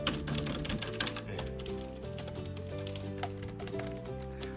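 Rapid clicking keystrokes on a Logitech keyboard clatter steadily throughout, mixed with tonal background music.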